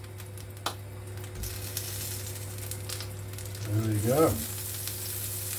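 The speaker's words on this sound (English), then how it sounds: "Into this, we now add our little knob of butter." A knob of butter sizzles in hot oil in a pan for veal with courgette, a steady fry hiss with a short spoken phrase near the end.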